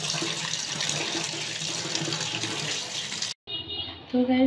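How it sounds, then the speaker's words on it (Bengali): Jujube berries are rinsed under a steady stream of running tap water that splashes continuously for a few seconds, then cuts off briefly before a softer trickle resumes. "বড়িগুলো খুব ভালোভাবে ধুয়ে নিতে হবে।"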